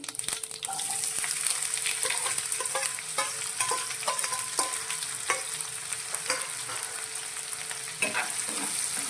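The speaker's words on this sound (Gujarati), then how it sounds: "આ ડુંગળીને આપણે બેથી ત્રણ મિનિટ માટે આપણે સાંતળીશું" Green onion whites sautéing in a pan over a high gas flame, with a steady sizzle and occasional stirring scrapes running throughout, loud and close, no talking.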